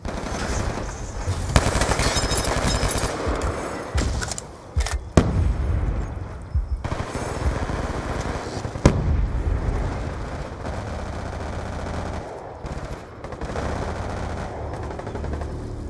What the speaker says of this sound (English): Sentry guns ready to deploy.